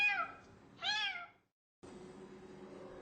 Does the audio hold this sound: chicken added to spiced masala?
no